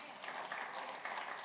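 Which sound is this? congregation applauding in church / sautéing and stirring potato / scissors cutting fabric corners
congregation applauding in church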